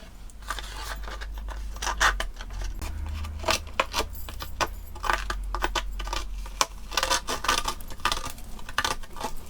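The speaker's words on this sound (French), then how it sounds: "Et je vais gratter et déchirer volontairement tous les bords comme ça." A tool scraping and tearing the edges of paper tags for junk journal embellishments, giving rapid close rasping, scratchy bursts and rustles in an irregular rhythm.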